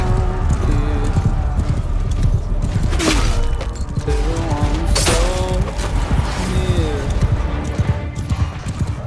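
Horses gallop in a large battle with a bridge in the video game Bannerlord, a dense thunder of hooves with scattered neighs and clashing combat noise, while a voice shouts orders over it.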